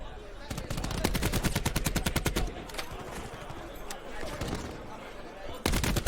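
Rapid bursts of automatic gunfire in a Call of Duty esports match at the CWL Championship, Optic Gaming versus CARNAGE, with dense repeated shots through the first half, scattered shots afterward and a fresh loud burst at the end.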